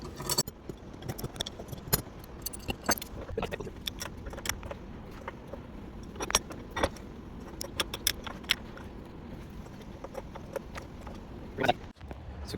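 Metal wrench and fitting clicks and clinks come in sporadic sharp bursts while tightening threaded transmission cooler fittings on a Hummer H2, close and fairly quiet over a low background.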